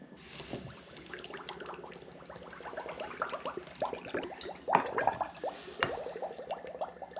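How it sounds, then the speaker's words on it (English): Hot water is poured into sugar for bee syrup, a faint, uneven splashing and trickling of liquid with scattered drips and clinks, heard close and quiet with no talking. "This here is hot water."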